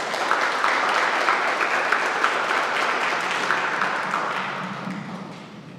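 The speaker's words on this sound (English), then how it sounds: "with a round of applause, let's invite Dr. Terese J." Audience at an evening summit applauding a speaker's introduction, a dense, sustained clapping of many hands that carries steadily and then slowly fades.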